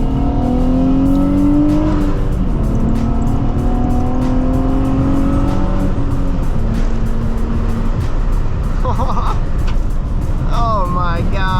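A 2006 Nissan 350z revs on a drive. Its engine note climbs in loud, rising sweeps through repeated accelerations over constant road and wind noise.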